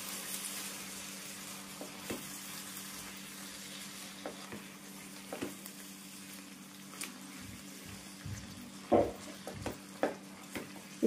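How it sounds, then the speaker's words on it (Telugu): Chili powder is stirred into a spinach chicken curry sizzling in a pan, with a steady, close frying hiss and occasional scrapes and knocks of the spoon against the pot, louder near the end. "ఇది కూడా అంతా ఒకసారి కలుపుదాం."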